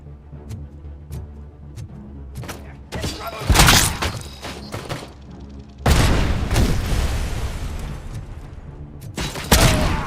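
Grenades exploding in the video game Robocop Rogue City, several loud booming blasts with shattering debris, separated by quieter stretches of thuds and rattling, with the loudest bursts near the middle and end.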